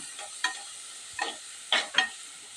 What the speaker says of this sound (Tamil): ஒரு கப் துருவிய கேரட் ஆட் பண்ணிக்கலாம். நல்லா எண்ணெயிலே ஃப்ரை பண்ணிக்கலாங்க.